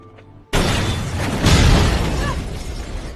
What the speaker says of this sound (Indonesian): Satu persatu mobil mereka meledak